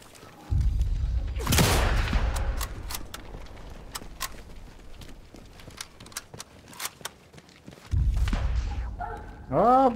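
Sharp gunshots from the video game Sniper Elite 5 multiplayer crack out in a scattered, irregular sequence, with a burst of louder noise near the start and again near the end.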